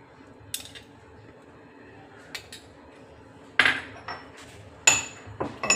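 Ginger garlic paste being mixed with a generous amount of yogurt in a bowl for chicken biryani, heard as a few sharp metallic clinks of a spoon against the bowl, spaced out over quiet background.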